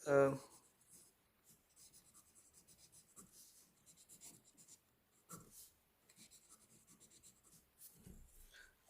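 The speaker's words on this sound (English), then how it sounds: "So for writing, I'm using this pen, which has been inked out of those." Scratchy strokes from an ASA Nauka fountain pen with a two-tone nib moving across paper, faint and close, in short irregular bursts with pauses between words.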